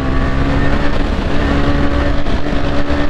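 A KTM Duke 390 motorcycle rides through a turn, its engine a loud, steady drone with wind noise, close and continuous with no talk.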